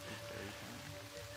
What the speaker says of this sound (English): Yeah, Rainy Riverbank. I feel like maybe that's gonna be too much rain.